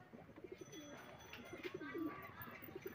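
An old Giribaz pigeon in a home loft coos softly in a quick run of low, throaty, repeated notes, faint and close in an otherwise quiet space.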